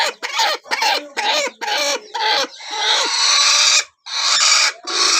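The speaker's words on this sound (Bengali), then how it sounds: "এই যে এখানে একটা মুরগি ডিম নিয়ে বসে আছে" A broody hen sitting on a clutch of eggs on a farm gives loud, close clucks in short repeated bursts, then a longer, drawn-out grumbling call with brief pauses.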